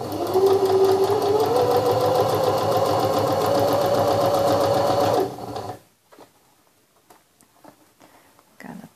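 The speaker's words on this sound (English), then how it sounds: "then I just let this sewing machine do the work" A sewing machine stitches fabric for a grow bag in a fast, steady mechanical whir for about five seconds, then stops, leaving faint handling clicks and rustles.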